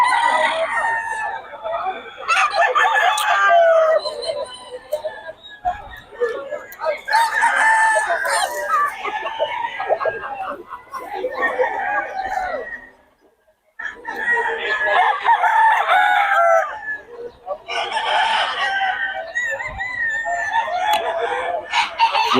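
A rooster crows repeatedly alongside a black hen at a poultry sale, the loud, strained calls coming in several long bursts with brief clucking between and voices faintly underneath.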